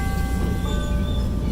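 A Chicago L Blue Line train near Washington and Wells, heard from on board as a loud, steady rumble with faint whining tones.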